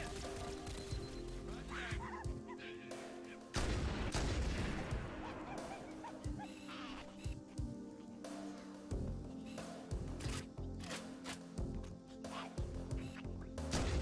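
Bursts of gunfire in the Halo video game crackle in repeated volleys over busy game noise, the shots sharp and mid-distance, with a heavier barrage partway through.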